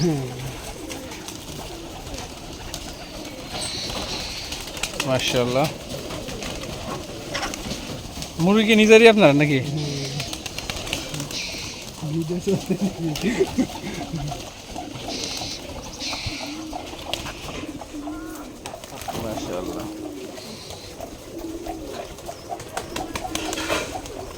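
A flock of more than a hundred Giribaj pigeons coos in an abandoned courtyard loft, soft overlapping calls throughout with a louder burst near the middle, while people talk over them.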